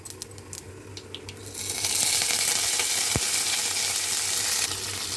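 Tempering seeds and chana dal hit hot oil in a pan for rava upma: quiet handling noises first, then a loud, steady, close sizzle that holds to the end.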